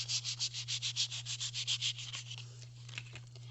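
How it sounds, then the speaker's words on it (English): Quick, rhythmic rasping strokes of light sanding on a playing card, about a dozen in a row, then slower, fainter rubbing, over a low steady hum. "it's just a light sanding"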